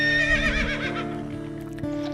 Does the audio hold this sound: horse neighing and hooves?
yes